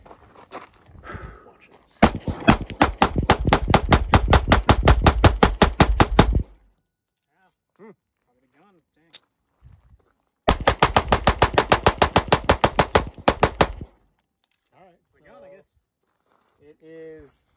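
Sig P365 pistol emptying a full magazine in two rapid strings of sharp, loud shots with a pause between them, followed by brief talk and handling noises.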